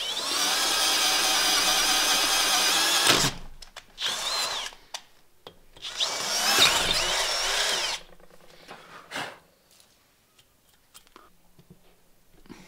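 A 12V cordless drill bores through metal in a workshop, a loud sustained whine for about three seconds, then shorter bursts with pauses and faint handling noises toward the end.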